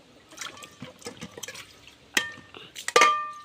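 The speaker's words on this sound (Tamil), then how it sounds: "நல்லா தண்ணியிலையும் போட்டு நல்லா கழுவிடுறேன்." Intermittent splashing and trickling water as quail meat is rinsed by hand, with soft handling noises and a couple of sharper splashes near the end, close by.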